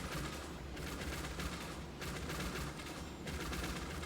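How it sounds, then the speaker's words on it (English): Rapid-fire archer attack in the fantasy MMO Elyon, a dense unbroken barrage of shots and impacts that stays loud throughout with brief dips in the high end. "We're just going to hold down again, rapid fire, and take it away."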